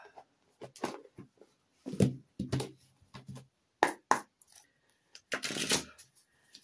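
Angel oracle cards shuffled by hand for a reading, a series of close, crisp riffling and slapping bursts with brief pauses between them.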